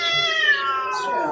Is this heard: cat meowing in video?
yes